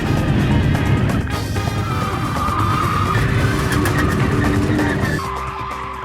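A Fiat Coupe fitted with Boadicea-style wheel spikes drives hard, giving a loud, continuous engine roar with scraping and skidding. The noise stays steady throughout and tails off slightly near the end.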